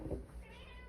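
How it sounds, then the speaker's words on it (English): A domestic cat gives a short, muffled meow indoors, heard alone at moderate distance. "Freaking cat is all having a hoopla fest over there."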